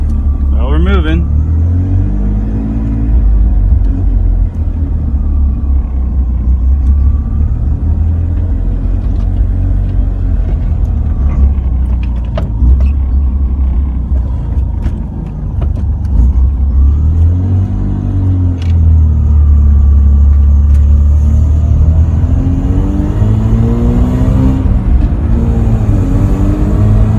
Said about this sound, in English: nothing better than driving a rotary car after it's been down for